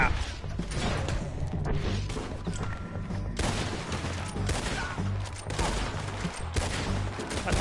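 Gunfire in Red Dead Redemption 2 sounds as repeated loud shots and crashing impacts over steady game noise, with a few short pauses between bursts.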